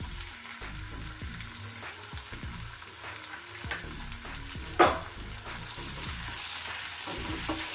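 Gongura paste being stirred into a soft-cooked tomato mixture in a frying pan, with a steady low sizzle and scraping stir strokes throughout and one sharp clack near the middle.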